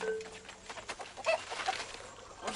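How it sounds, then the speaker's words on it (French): Hens cluck and murmur in a village henhouse belonging to a blacksmith, a few soft, scattered calls close by over a low background hum, with no talk. "on passe d'abord par le poulailler de Siaki le forgeron"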